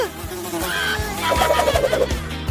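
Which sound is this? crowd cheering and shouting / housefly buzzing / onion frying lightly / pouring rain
housefly buzzing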